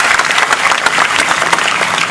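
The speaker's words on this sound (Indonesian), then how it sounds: "Teman-teman sekalian tepuk tangan untuk Mas Chandra." Loud, dense applause from a gathered audience, many hands clapping close by in a steady burst with no talk over it.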